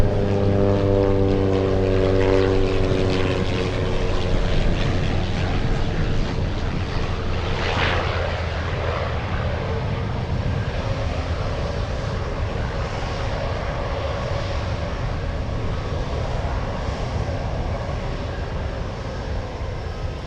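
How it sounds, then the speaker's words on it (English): Cessna Grand Caravan single-engine turboprop approaching to land at Anchorage airport in gusty wind, a loud, sustained propeller and engine drone with a steady harmonic hum that holds throughout, roughened by wind buffeting and rumble. "I think we have a Grand Caravan coming in. See how it handles the wind."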